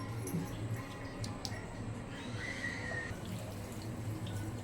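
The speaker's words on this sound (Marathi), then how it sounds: "भाजी धुवायला पाणी." Water splashing and dripping close by, a steady wet sloshing as cut leafy vegetables are rinsed, with a low background hum.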